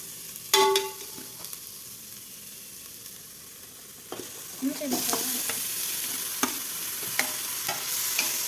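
Tomatoes being sautéed for tomato rice, with a steady oily sizzle in a pan, a few sharp spatula knocks and scrapes, and louder hissing and stirring toward the end.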